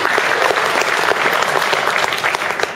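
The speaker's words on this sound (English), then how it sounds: "We're going to give Ami another round of applause like that." An audience at Mozilla Summit 2010 gives a round of applause, with dense, loud, steady clapping from a large crowd throughout.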